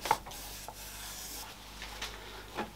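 A cloth wipes down the spindle flange of a lathe during a chuck service, giving soft, steady rubbing strokes close by with a few brief louder swipes, and no voices.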